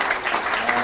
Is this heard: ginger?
no